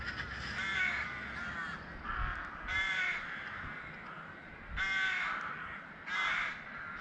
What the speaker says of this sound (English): it looks like we got crows for company